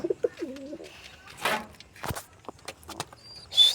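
Young pigeons cooing in a loft, with several soft low coos early on followed by scattered chirps, fluttering and light shuffling nearby.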